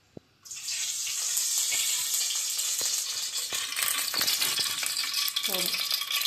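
Oil poured into a hot kadai on a stove sets off a sudden, loud sizzling hiss that holds steady and close for several seconds, with faint clinks.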